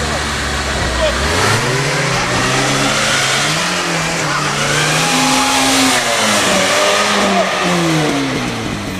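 A VAZ Niva's engine revs hard again and again as the car is pulled out of a roadside ditch at night, loud rising and falling whines with rough background noise throughout.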